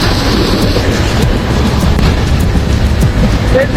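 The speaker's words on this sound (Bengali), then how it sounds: "এ হচ্ছে ট্রেনের ইঞ্জিন রুম" Inside the engine room of a Bangladeshi train: a loud, constant rumbling roar of machinery and motion, dense and unbroken throughout, with no voices standing out.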